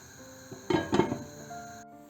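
A lid goes onto a pot of mushrooms. There is a short clatter of metal and glass, two quick knocks close together, and then a quiet hum continues.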